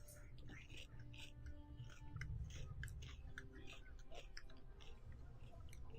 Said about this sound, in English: Why am I chewing in the microphone?